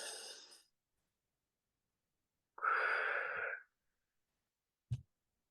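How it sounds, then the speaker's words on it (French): A long, deep breath drawn during a calm guided-imagery relaxation exercise, one sustained airy inhale in near silence, bracketed by a brief breathy sound before and a short soft exhale-like puff after. "Grande respiration."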